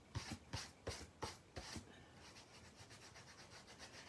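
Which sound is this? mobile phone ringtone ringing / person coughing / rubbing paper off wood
rubbing paper off wood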